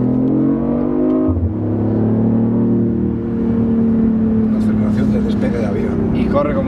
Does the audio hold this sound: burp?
no